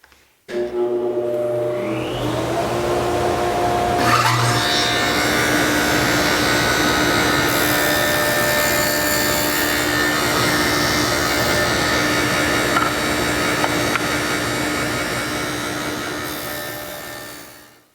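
Table saw with miter gauge and stop block cutting wooden tenons: motor spins up, then a long continuous loud whine with rough cutting noise for most of the clip, winding down at the end.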